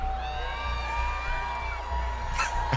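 An arena crowd at Dickies Arena cheering in a sustained, moderately loud roar with scattered whoops and shouts, ending in a brief sharper burst.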